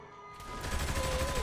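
A rapid, close burst of gunfire rattles through a street fight in Saints Row 3 Remastered, the shots rising quickly from quiet into a loud, dense volley over about a second.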